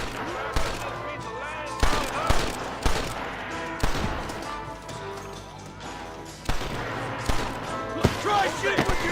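Rapid gunfire crackles through a Red Dead Redemption shootout, with repeated sharp shots and bursts over a busy game soundscape of music and effects, while a voice talks in between.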